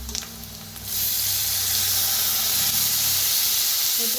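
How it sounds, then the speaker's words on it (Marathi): A bowlful of water poured into hot roasted turmeric masala for buttermilk pitla bursts into a loud, close, sustained steaming hiss after a brief quieter start. "थोडंसं पाणी ओतूया पहिला"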